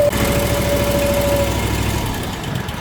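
A small engine, fitted with a new carburetor, runs steadily at idle with a loud, close, even buzzing drone and slight vibration, easing off a little toward the end, with no speech over it.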